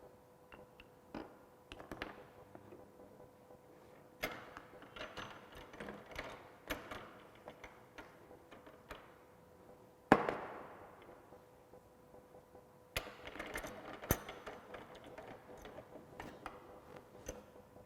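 A half-inch pipe being threaded with a hand die and ratchet, giving bursts of dry clicking and metallic cutting strokes, repeated in several rhythmic spells separated by pauses, close and fairly quiet.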